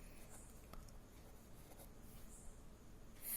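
Pen or marker writing out a maths table during a class, a faint steady scratching that runs for a few seconds under low room hiss, with no talk.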